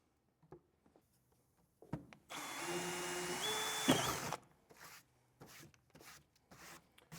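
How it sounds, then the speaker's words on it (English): A power drill whirs loudly for about two seconds as it bores holes in a Harley-Davidson Road Glide or Street Glide part for an audio kit install, its pitch shifting slightly, with scattered handling clicks and taps before and after. "I can drill in each of these round sections"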